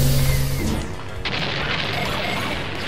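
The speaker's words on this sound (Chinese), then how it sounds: "爆炸了！" An explosion in the Princess Peach Showtime video game: a sudden burst partway through after busy game sounds, followed by a sustained rushing rumble.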